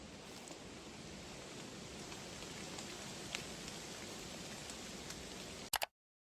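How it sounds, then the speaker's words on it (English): Steady rain patters on a makeshift tarp in a forest at night, a dense, even hiss of drops with occasional louder ticks, ending in a brief thump before silence. "Rain patters softly above, mist drifts between the trees, and branches creak in the night air."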